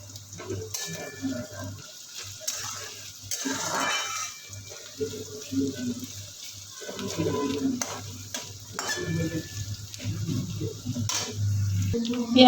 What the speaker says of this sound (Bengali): পেঁয়াজ গুলো একটু ভাজা ভাজা হোক